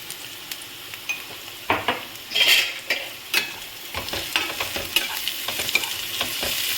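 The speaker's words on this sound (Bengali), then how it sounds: "পেঁয়াজটা একটু ভাজা ভাজা হয়েছে" Onions fry in oil with salt in a pan, a steady sizzle broken by repeated scraping and clattering strokes of a spoon stirring, close and fairly quiet with no voices.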